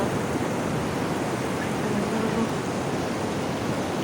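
Sea waves wash steadily onto a beach at sunset, a continuous broad hiss of surf with no distinct breaks, close and moderately loud with no voices.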